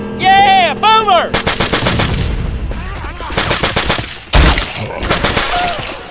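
Rapid bursts of gunfire from the zombie shooter Left 4 Dead 2, several loud automatic volleys with a heavy boom midway, mixed with squealing, chirping game effects at the start.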